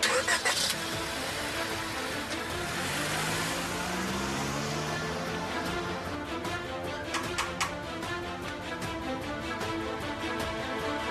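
A car engine cranks and fires up, then settles into a steady running hum, with clicks and knocks toward the end; no one speaks.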